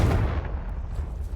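A Confringo spell explosion in Hogwarts Legacy, a loud deep blast that booms at once and then rumbles away over about a second.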